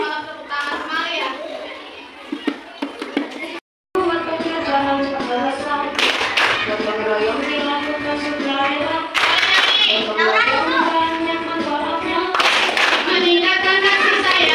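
A school class claps hands together in rhythmic patterns while children's voices sing and chant along, loud and close, with a brief dropout partway through.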